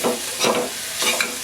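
Jackfruit seeds are stirred with salt in a pan, heard as soft scraping strokes with a faint sizzle, a couple of distinct passes within a second and a half and no talking.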